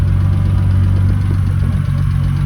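A repaired 2006 BMW 325i engine idles close by, a loud, even mid-pitched hum that holds steady throughout with no voices.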